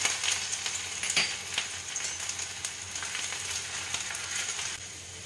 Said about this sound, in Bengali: তেল গরম হয়ে গেলে তার মধ্যে আমি দেব 2টো শুকনো লঙ্কা চিড়ে, আর দেব 5 ফোড়ন, দেব ছোট করে কুচানো আদা